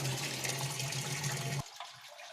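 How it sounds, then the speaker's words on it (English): Water rushes steadily into a notch channel in a fluid mechanics lab, a loud broadband gush that cuts off abruptly partway through, leaving a quieter trickle. "water has started flowing"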